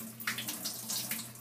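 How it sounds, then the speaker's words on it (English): Photo processing solutions are poured together down a sink drain, making a steady splashing gush of liquid with surging bursts, close and continuous. "what you need to do is discard the solution down the sink"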